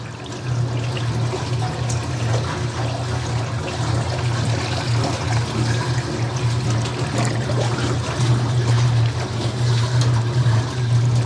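A 65-year-old wringer washing machine runs with water sloshing inside, a steady low motor hum beneath continuous trickling and splashing, close and even throughout with no talking.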